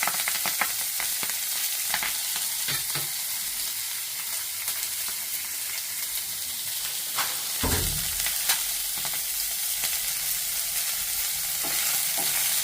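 Onions and curry leaves frying in hot oil, a continuous loud sizzle broken by repeated scraping and knocking as a spoon stirs them around the pan, with one heavier thump midway and no talking.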